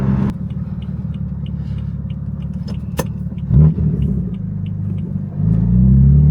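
Single turbo BMW F80 M3 driving, with a steady engine rumble heard from inside the car, a brief surge around the middle and a louder rev building near the end.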